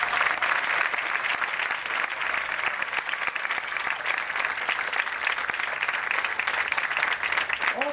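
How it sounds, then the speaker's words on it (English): Dense, sustained audience applause at a 2013 graduation ceremony, many hands clapping together evenly and loudly for the whole stretch without pause. "let's give them a round of applause"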